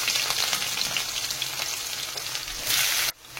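Onion sizzles and crackles in hot oil with popped mustard seeds, a busy, close frying hiss that swells briefly before cutting off abruptly near the end.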